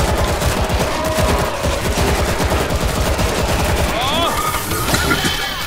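Steady rapid gunfire in World War Z, a continuous rattle of close automatic shots with a few squealing effects, loud throughout, while a player speaks over it.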